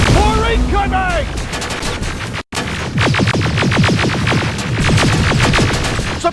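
Rapid, loud bursts of automatic gunfire lay down suppressing fire in the video game Terminator: Resistance, with dense repeated cracks throughout, a brief break midway, and shouted voices at the start.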